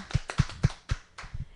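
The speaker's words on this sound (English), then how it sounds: "I think that deserves a clap" Hands clap in a radio studio, a short run of sharp close claps with uneven rhythm, about six quick smacks, fairly faint, with no talking.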